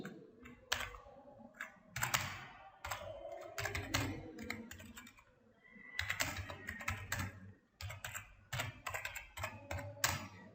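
Fingers type code on a computer keyboard in steady bursts of close, crisp key clicks, with short pauses between runs and no talking.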